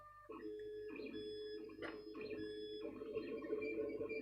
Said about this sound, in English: that's a loud printer boy